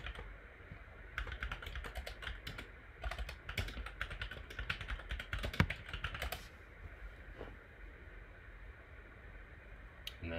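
Rapid keystrokes on a computer keyboard as commands are entered to push a website to Heroku, clattering steadily for about five seconds before giving way to a faint room hum.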